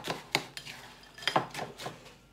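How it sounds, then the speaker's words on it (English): Biscuits being stirred into melted chocolate in a bowl for rocky road, with several scraping clinks of a utensil against the bowl, close and fairly quiet, with no talking. "So we're going to tip in our biscuits. There we go. And mix all those in."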